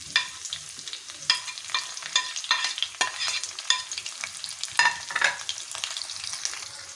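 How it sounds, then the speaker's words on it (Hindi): Two large onions fry and brown in a pan for a Hyderabadi beef pasanda, with a steady sizzle and repeated scraping stirs from a spoon, close and clear with no talk. "दो बड़े साइज़ की प्याज थी, जिसको हम ब्राउन कर लेंगे अच्छे से।"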